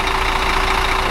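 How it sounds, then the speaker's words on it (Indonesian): A Scania K360ib premium tour bus engine idles at a steady, even level, its continuous low rumble carrying a faint constant hum with no talk over it. "Teman-teman bisa dengarkan suara mesin Scania ya."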